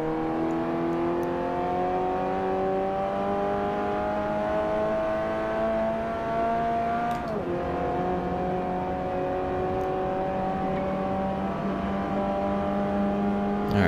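A Citroen race car engine in Forza Motorsport 4 holds a loud, steady, high-revving drone. It is close and continuous, with one brief gear-shift dip midway.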